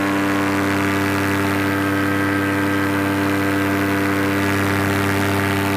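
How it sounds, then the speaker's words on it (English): A paramotor engine drones continuously in flight at high altitude, a steady loud mechanical hum with strong tonal harmonics and no variation throughout. "I can definitely feel the engine."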